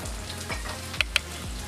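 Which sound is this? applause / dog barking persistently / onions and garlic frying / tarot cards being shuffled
onions and garlic frying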